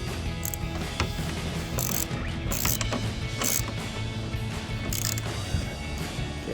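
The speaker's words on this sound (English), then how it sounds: "To do that, we're gonna use our 10mm socket." A ratchet with a 10mm socket tightens a nut on a stud during an F-150 headlight install, producing repeated close clicking ratchet strokes in irregular bursts, with no talking.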